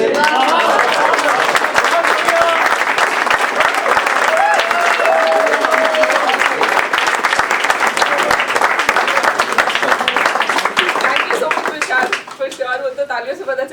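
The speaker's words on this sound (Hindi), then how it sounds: "तालियों से पता चल ही रहा है एवरीबॉडी लव्ड इट।" Enthusiastic audience applause at a poetry gathering after a recited poem: loud, sustained clapping from a sizable crowd for over twelve seconds, tapering off toward the end as a voice begins to speak.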